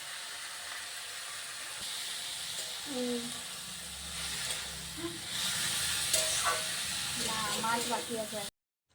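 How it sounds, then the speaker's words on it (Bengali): Dal (lentils) frying in a pan, a steady soft hiss and sizzle running throughout at moderate loudness, with faint clinks and a voice talking over it before cutting off abruptly. "ডাল ভাজা হচ্ছে এখানে"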